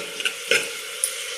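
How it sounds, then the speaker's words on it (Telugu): Onions frying in oil in a pan for a poori and aloo masala curry, a steady close sizzle with a few brief stirring scrapes, no voices. "ఆనియన్స్ అన్నీ ఇందులో వేసుకోవాలా ఒక రెండు నిమిషాలు అట్లే మగ్గాలండి ఆయిల్"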